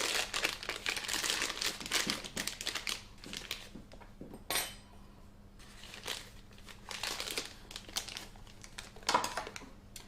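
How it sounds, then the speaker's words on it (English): Plastic piping bag being rolled down before filling with buttercream, a continuous close crinkling and rustling of plastic in uneven bursts for about ten seconds, with no talking. "We're going to use a little bag, but again, roll your bag down"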